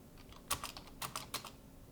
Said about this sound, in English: Then I can simply type any message.